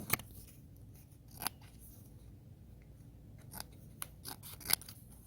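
Scissors snip in a series of sharp, irregular cuts, close and crisp against a quiet background.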